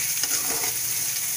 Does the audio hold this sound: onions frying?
yes